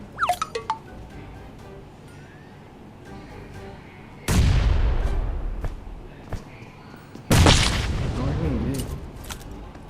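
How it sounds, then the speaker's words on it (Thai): Two heavy grenade blasts in PUBG Mobile boom several seconds apart, each a sudden loud crack that rumbles and decays slowly. A few sharp clicks come before the blasts, over quiet game ambience and talk. "โอ้ระเบิดหลุดมือ"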